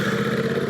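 A Triumph Street Cup motorcycle engine runs with a steady, close, throbbing rumble and a rapid even pulse, loud and alone for a brief moment.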